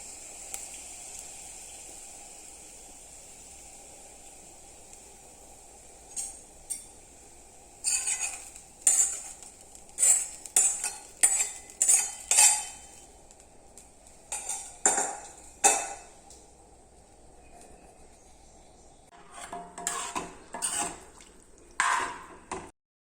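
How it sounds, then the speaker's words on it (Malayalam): Fried shallot tempering with green chilli and curry leaves stirred into chicken kurma, a run of sharp metal spoon clinks and scrapes against the pot over a faint low background, with no talk. "കോരി കറിയിലേക്ക് ചേർത്ത് ഇളക്കിയാക്കുക"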